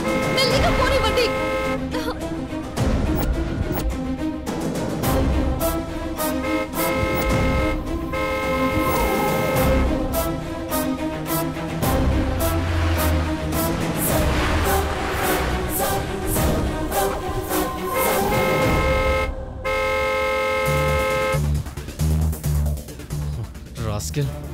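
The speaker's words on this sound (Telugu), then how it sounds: "నా దారి నేను పోతున్నాను కదరా, హారన్ కొడతావేంట్రా?" Horns honk repeatedly from road vehicles during a Telugu TV serial scene, sounding as several loud toots and blasts, with voices talking around them.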